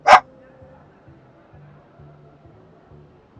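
A single sharp dog bark right at the start, close and loud, followed by faint low background noise.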